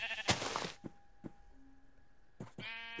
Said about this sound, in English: So we're gonna kill some sheep with a pick.